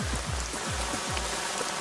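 Rain falling steadily in an outdoor street setting, a dense even patter of drops with a few low thuds mixed in, close and continuous, with no speech.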